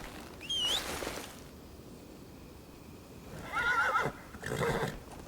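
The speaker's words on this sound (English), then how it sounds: "It's a magical horse." A video game horse from Crimson Desert whinnies twice with rising, shrill calls, the second longer and wavering, separated by a quiet stretch with faint ambient hum.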